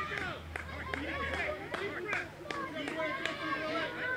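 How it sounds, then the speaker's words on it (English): Spectators at a Massachusetts Division 8 high school baseball championship in Whitman, Whitman versus Braintree, chattering steadily, with sharp claps and knocks breaking through the babble roughly twice a second. "Fantastic crowd here."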